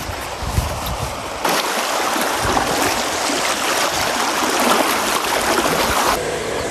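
A large river rushes past as a steady, loud broadband roar of flowing water, swelling fuller and denser after the first second and holding near and continuous throughout.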